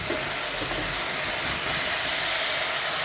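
Green beans sautéing with onion in a pan, a steady close hiss and sizzle running throughout with faint stirring underneath.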